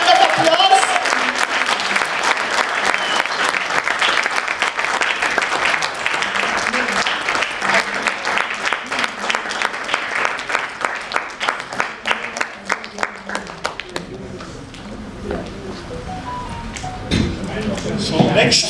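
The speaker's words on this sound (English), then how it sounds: "Let's have a good round of applause." An indoor audience at a forum event gives a loud round of applause, dense clapping that thins into scattered claps and fades out near the end, with faint murmuring afterward.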